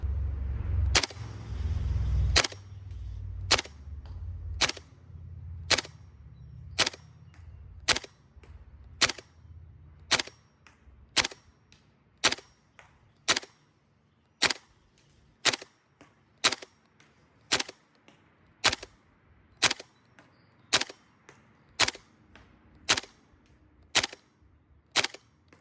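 Gas blowback FAMAS airsoft rifle fired semi-automatically on an outdoor range, about twenty sharp cracking shots at steady one-second intervals, close and crisp, with a low rumble of wind or handling under the first few.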